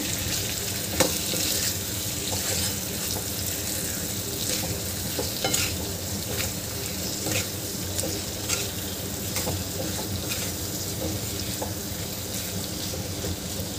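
Raw papaya curry with fresh coriander is stirred in a pan, with a soft sizzle under repeated scraping and clinking of a spoon against the pan in an uneven rhythm, fairly quiet and close.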